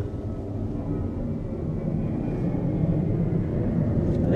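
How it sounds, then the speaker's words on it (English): A low, steady engine rumble of an airplane taking off drones in the distance, growing slightly louder, with faint background noise. "There's an airplane taking off."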